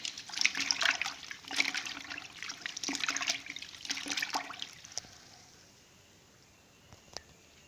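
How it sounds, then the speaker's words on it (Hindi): Trouser fabric being swished and soaked in a bucket of water, close splashing and sloshing for several seconds, then settling into quiet with a single faint drip. "मैंने बाल्टी में पानी ले लिया है और इसको खोल लिया है। ये मैं पहले ट्राउज़र जो है उसको भिगो रही हूँ।"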